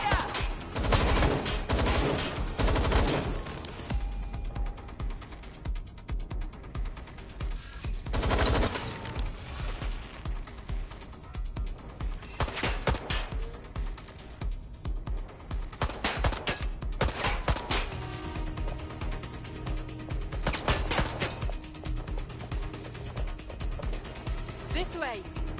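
Gunfire rattles through a firefight in the video game Watch Dogs Legion, dense bursts and repeated shots running almost nonstop at close range, with shouted voices mixed in over the shooting.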